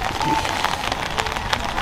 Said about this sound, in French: Dommage qu'il pleut.